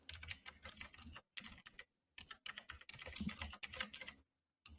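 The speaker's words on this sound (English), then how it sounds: "As everybody can hear my mechanical clicking over here." Rapid clicky keystrokes on a mechanical computer keyboard, close and fairly crisp, come in uneven bursts separated by short silent pauses.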